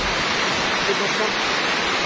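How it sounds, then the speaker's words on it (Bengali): Dense, steady roar of heavy rain pouring down in Birulia, Savar, loud and continuous with no breaks. "প্রচুর বৃষ্টি হচ্ছে, প্রচুর বৃষ্টি।"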